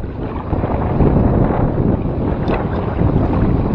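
Strong wind buffets the microphone at sea during kayak fishing, a loud, constant roar of gusts and water noise with no speech.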